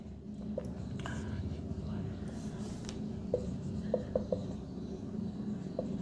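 Pen scratching on paper while given data for a chemistry problem is written out, soft intermittent strokes and small taps near the microphone under a low steady room hum.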